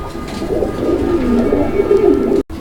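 Pigeons at a bird market coo in low, rolling, throaty calls that overlap continuously at close range, the warbling rising and falling until a brief dropout near the end.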